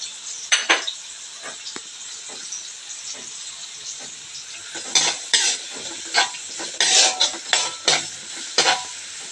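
Ginger sizzles and is stirred in a pan while squid is cooked, with bursts of hissing frying and scraping clinks of a utensil against the pan between quieter stretches.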